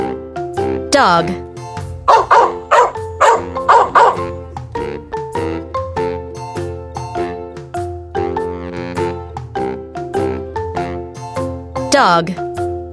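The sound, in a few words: dog barking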